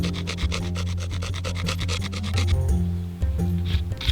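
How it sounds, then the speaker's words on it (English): A stone flake scraping and scoring a wooden spear shaft and a smooth feather quill, a fast series of rhythmic rasping strokes, close and loud, with a short pause near the end. "I again use a stone flake to score the area where the sinew will be so that it will hold securely"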